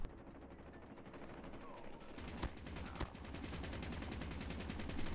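SMG gunfire in the Call of Duty Mobile video game, with fast continuous bursts of automatic fire and a few sharper single shots standing out. The firing is dense and sustained and grows louder toward the end.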